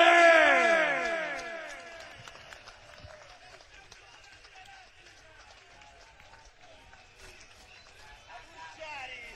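Applause and cheering from a crowd at Cyborg disco for a DJ and a vocalist at a live 2005 night. It starts loud with voices over the clapping, then fades to a softer patter.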